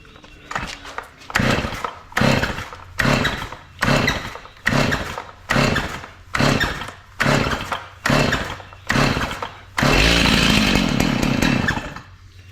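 Stihl MS 290 chainsaw with a swapped carburetor being pull-started: about nine separate rasping recoil pulls in a steady rhythm, then the engine catches and roars loudly and continuously, close by.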